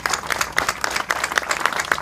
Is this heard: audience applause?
yes